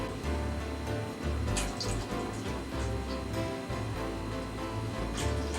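Water poured into a roasting pan for a pork roast, a steady continuous splashing and gurgling pour filling the pan about halfway, close and fairly loud throughout with no talking.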